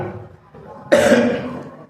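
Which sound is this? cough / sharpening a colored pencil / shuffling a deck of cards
cough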